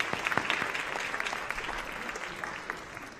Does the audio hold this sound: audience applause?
yes